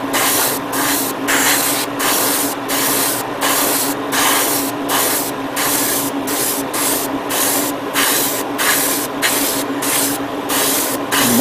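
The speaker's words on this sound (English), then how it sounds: "I'm using my Revolution airbrush just for like something like this, like for priming parts" A Revolution airbrush sprays primer onto Bandai model kit parts for the EDF Andromeda, producing close, loud hissing bursts in a fast, regular on-off rhythm throughout.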